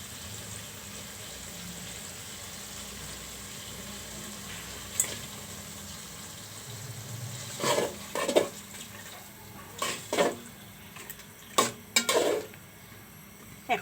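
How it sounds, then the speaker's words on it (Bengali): Hilsa fish belly and bones go into cooked-down masala in a pan, a soft sizzle under stirring scrapes and a few sharp clinks of a utensil against the pot, close and moderately loud. "এখন আমি এখানে ইলিশ মাছের পেটা ও কাটাগুলো দিয়ে দেব।"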